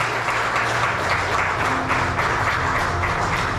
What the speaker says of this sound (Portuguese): Aplauda bem forte em nome do Senhor.